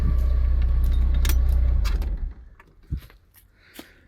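A Porsche 944 engine idles loudly and then stops after about two seconds when the key is turned, followed by a few keys jangling and light clicks in the quiet.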